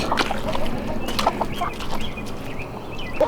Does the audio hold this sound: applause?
no